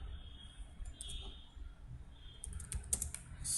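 Keys clacking on a computer keyboard as C++ code is typed, a run of close, irregular taps that grows busier toward the end, with no talking.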